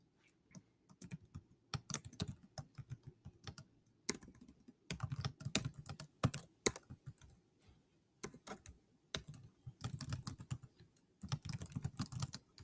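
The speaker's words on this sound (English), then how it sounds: "I'm going to just type in a statement." Rapid typing on a computer keyboard while entering a true-or-false statement, coming in several bursts of quick, close clicks separated by short pauses.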